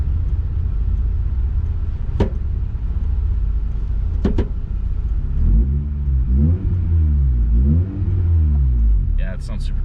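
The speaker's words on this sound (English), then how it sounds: "I'm also revving it at a red light, which doesn't help my image." A Honda Del Sol with a VTEC engine idles at a red light, then revs in several rising and falling bursts. The engine sits close and loud, with a few sharp clicks heard earlier.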